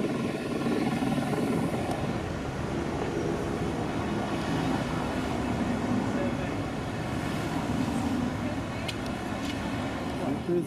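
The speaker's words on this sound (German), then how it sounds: "haben mehrere Hubschrauber eine fixe Position am Himmel eingenommen" Several helicopters hover above a Los Angeles street in the Fashion District, producing a steady, continuous low rotor drone throughout. The sound is dense and unbroken, with traffic and street bustle mixed underneath it.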